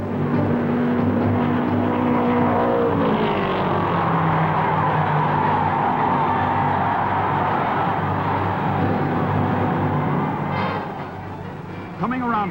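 1960 NASCAR Grand National stock cars roar past wheel to wheel, a loud continuous engine drone with shifting pitch as they pass, under a race announcer's commentary, easing off near the end.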